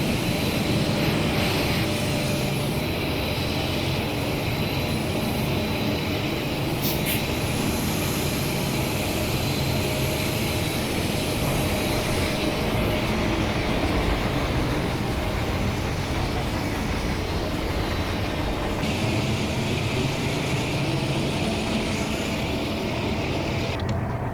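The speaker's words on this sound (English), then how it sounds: "it sounds like the same rev up sound with each throttle up, especially if you go by notch" An MLW M-420 diesel locomotive engine revs in Train Simulator Classic, a continuous, loud, droning rumble that holds steady throughout with slight shifts in tone.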